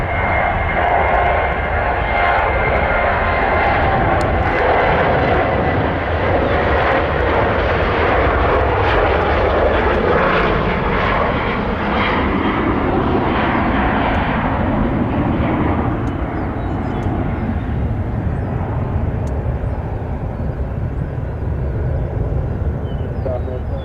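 A Southwest airliner takes off at Nashville International Airport, its engines producing a loud, steady jet roar that fills the whole stretch without letup.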